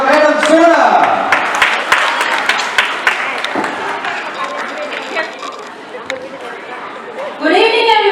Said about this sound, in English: Ladies and gentlemen, give a round of applause to welcome a fashion bridal from Grace Ladies